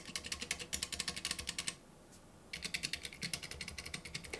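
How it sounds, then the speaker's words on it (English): Rapid bursts of clicky key presses on a Splitography keyboard with its leaf springs removed, a brief pause in the middle, then another quick run of typing, close and fairly loud with no voices. "This does, however, make the key presses a bit louder."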